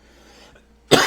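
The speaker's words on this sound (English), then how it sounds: "Have a little bit of a cough, so I apologize for that." A single sharp cough near the end of a brief quiet moment, close and loud after near silence.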